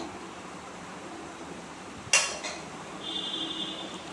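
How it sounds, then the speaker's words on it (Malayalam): A utensil stirs prawns in a cooking pan, landing one sharp metallic clink against the pan followed by lighter scraping, all over a low, steady background hiss. "പ്രോൺസ് ഒന്ന് ഇളക്കി കൊടുക്കണേ"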